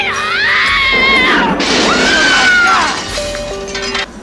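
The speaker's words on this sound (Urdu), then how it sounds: "ایک عورت کی ایسے دل دہلا دینے والی چیخ اٹھی" A woman's terrifying horror-style scream rises and wails in long, piercing, wavering cries over a dense, loud, crashing backdrop, fading near the end.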